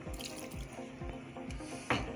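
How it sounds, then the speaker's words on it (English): A little water added to a cooking pot of Achi soup with oha and okazi leaves: a faint, close trickle and splash over a soft, regular low knocking, ending in a brighter splash. "Now I'm going to add water to aid in the cooking."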